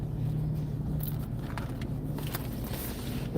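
Car engine left idling with the keys inside, a low steady hum continuing evenly throughout, with faint clicks and rustles on top and no talk.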